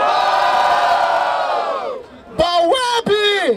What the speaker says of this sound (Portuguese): Barulho para as rimas do Trek!